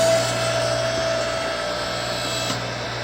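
A small household electric log splitter runs while splitting firewood, giving a loud, steady motor hum and whine close by with a faint creak or crack partway through.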